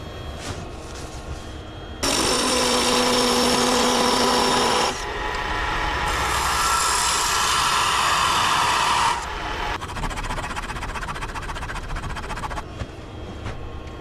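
A wood lathe parts off a small laburnum box: loud harsh scraping bursts of the tool on spinning wood, two main cuts separated by a pause, then a quieter rattling hum from the machine.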